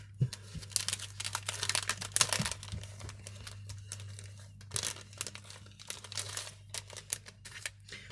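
A packet of vintage paper tags is opened close by, with soft crinkling, rustling and small tearing sounds in irregular bursts, fairly quiet throughout.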